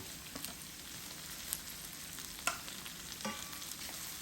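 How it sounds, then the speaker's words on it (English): Tomatoes frying in a pan with sardines, a soft continuous sizzle at low level with a few sharp stirring clicks and utensil taps scattered through, no voices. "I'm just going to put my tomatoes in there"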